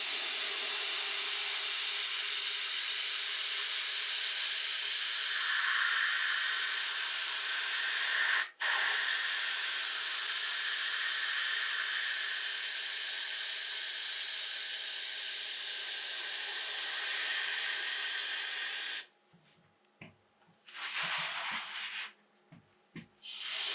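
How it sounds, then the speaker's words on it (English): Steady, loud airy spray hiss from a compressor-fed paint sprayer coating a watermelon-themed guitar, running continuously for most of the stretch before cutting out into short bursts and quieter gaps near the end. "So my air compressor kicks on, it'll be a little loud."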